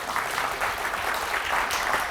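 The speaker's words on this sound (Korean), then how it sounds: "박수 한번 주시죠" An audience in a lecture hall bursts into applause, a steady, dense patter of many hands clapping throughout, moderately loud and without pause.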